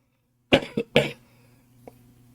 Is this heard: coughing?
yes